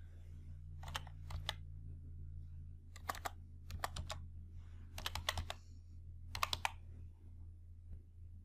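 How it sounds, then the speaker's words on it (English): Typing on a computer keyboard while entering a spreadsheet formula: short bursts of quick, clicky keystrokes separated by pauses, close and clear over a steady low hum, with no voices. "So type 3 in row index num box. Press tab key."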